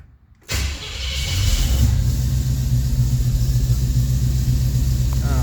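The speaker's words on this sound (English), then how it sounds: "But the car will start." A car cranks and its engine fires up after a brief silence, then settles into a steady, loud idle rumble close by.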